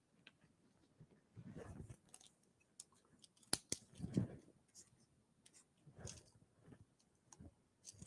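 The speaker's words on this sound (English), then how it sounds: "I just do a couple little snips in the side" Scissors snip notches into tweed skirt fabric, a few sharp, quiet cuts spaced out with short pauses between them.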